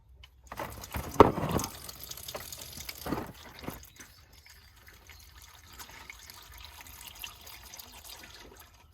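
Engine oil drains out of the sump of a Renault Fluence 1.5 dCi. A brief, fairly loud gushing pour trickles and patters, then fades to a faint, thin dribble over low background noise.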